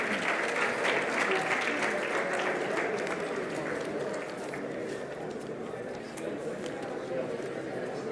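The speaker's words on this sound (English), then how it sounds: "Can we all give them a big round of applause?" Sustained applause from an audience at a panel discussion and awards segment, a dense, even patter of clapping hands lasting several seconds, with voices mixed in beneath it.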